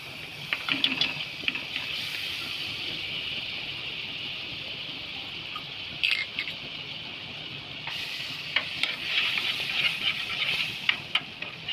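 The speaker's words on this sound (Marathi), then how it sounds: "आता मी बटर घेते पॅनमध्ये बटर घालून पनीरला फ्रा फ्राय करायचं आहे" Paneer fries in butter in a pan for butter paneer masala, giving a quiet, steady sizzling hiss with small irregular crackles and pops and occasional clinks throughout.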